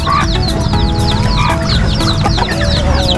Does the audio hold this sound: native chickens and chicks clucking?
yes